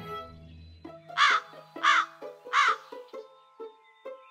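A cartoon crow caws several times in a row: loud, harsh calls close by, followed by shorter, softer clucks.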